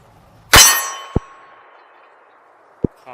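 Three metallic clangs of FK BRNO PSD pistol rounds striking a steel target: one loud ringing impact with a long decay, then two sharper, quieter hits spaced over the next two seconds, with no talking.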